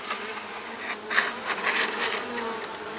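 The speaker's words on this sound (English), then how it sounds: "the bees seem very calm right now" Honeybees buzz densely and steadily at close range in an open hive during an inspection, a constant swarming hum with individual bees flitting past, no voices.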